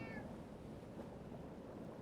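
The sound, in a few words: cat meowing in the video game Foolish Mortals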